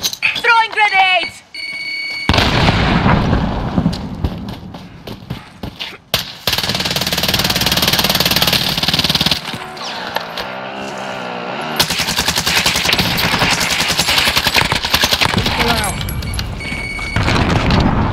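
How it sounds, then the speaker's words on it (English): Grenade explosions and bursts of gunfire in Call of Duty Warzone, loud booms and rapid shots cutting in and out over game sounds, with players talking over the action. "Throwing grenades!"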